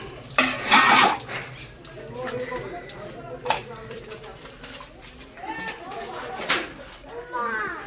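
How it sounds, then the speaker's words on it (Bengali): Kekle fish are washed repeatedly in water in a bowl, with close clinks, knocks and light sloshing coming in bursts while someone talks over them. "দেখতে পাচ্ছেন খুব সুন্দরভাবে বারবার ধুয়ে নিচ্ছে রুমা জলে"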